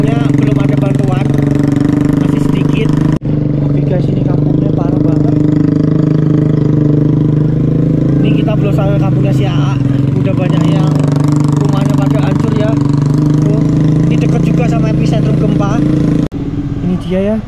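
A motorcycle engine runs steadily in a small village lane near an earthquake evacuation post in Cianjur, a constant mid-pitched drone with people talking over it throughout.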